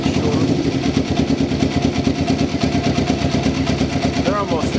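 A motorcycle engine idles steadily while the throttle is blipped during carburetor synchronization on a bike being converted to a bobber, a close, continuous mechanical rumble with slight revving swells.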